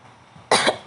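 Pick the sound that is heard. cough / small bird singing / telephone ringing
cough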